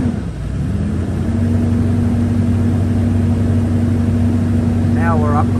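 A Toyota LandCruiser LC200 engine rises from idle to a higher steady drone, a constant loud hum held for several seconds, with a short warbling whine near the end.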